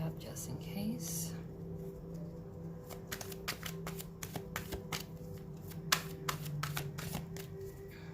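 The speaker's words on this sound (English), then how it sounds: "I'm going to go ahead and shuffle that back up just in case" A deck of playing cards is shuffled repeatedly in sharp, riffling bursts, fairly close and quiet, over a steady low hum and faint background talk.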